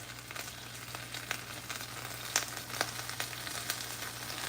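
Chicken sizzles steadily in a pan over a high flame, a dense continuous frying hiss with scattered pops and crackles, close and without talk.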